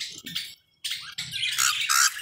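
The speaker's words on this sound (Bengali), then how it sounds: "নিউ অ্যাডাল্ট সাইজের পাখি," Adult pet birds in a bird shop give harsh, bright chattering calls in bursts, close and loud, with a brief silent gap.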